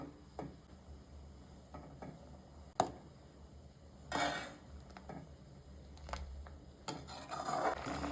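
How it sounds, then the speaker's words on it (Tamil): A ladle scraping and knocking inside a cooking pot while okra buttermilk curry with coconut is stirred, a few faint, irregular clinks and taps at quiet level with no talking. "அதனால் இப்படி இந்த கரண்டியை வச்சு இந்த மாதிரி இளக்கிட்டே இருக்கலாம்"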